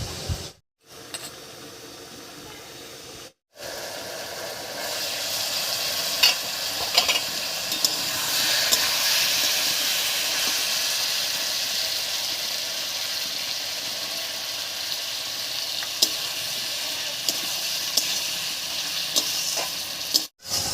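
Spice paste being stir-fried with tender bottle gourd in a pan, a steady, fairly loud frying sizzle with a scraping stir that carries on for most of the clip after two brief cuts near the start.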